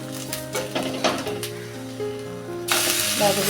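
Potato batter with onion sautéing in a pan for potato dhirde pancakes: an ongoing sizzle with soft scraping strokes, a sustained tonal background underneath, and a louder hiss surging in toward the end.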